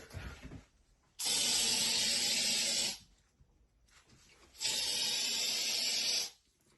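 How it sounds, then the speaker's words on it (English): Raid insecticide spray hisses at a bug in two long bursts of about two seconds each, separated by a short pause, close and alone. "spray him with Raid"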